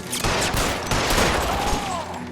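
A rapid burst of gunfire from a 1940s Los Angeles detective shootout in L.A. Noire, loud and continuous with overlapping shots, no talking.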